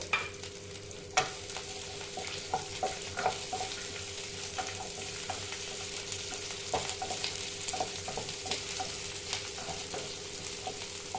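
Onion and garlic sautéing in a pan with curry leaves for a sundakkai chutney, a constant sizzle punctuated by regular spatula scrapes and taps, close and clear with no voices.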